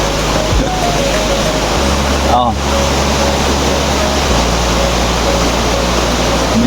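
Loud, steady roar of a river running high after rain fills the clip, a broad continuous wash with a brief spoken exclamation partway through.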